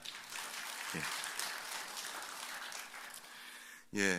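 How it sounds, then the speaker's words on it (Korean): A church congregation gives encouraging applause at an Advent special dawn prayer service, a soft dense patter of many hands that continues steadily, followed by a brief voice at the very end. "우리 박수로 격려할까요?"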